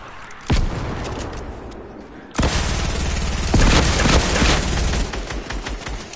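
Video game gunfire from Fortnite: loud, sharp shots, a single blast and then a dense burst of rapid automatic fire with heavy booming impacts, close and continuous.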